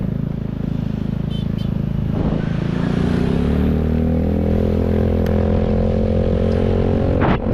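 A motorcycle engine runs close and loud on a road near Ngurah Rai airport in Bali, droning steadily and shifting pitch as it revs and accelerates, with some light clatter and no speech.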